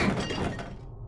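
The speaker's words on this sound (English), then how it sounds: "a huge shattering sound was heard from the outside of the door" Glass shattering just outside a door, a dense, crashing burst of breaking sound that fills the clip and then fades out toward the end.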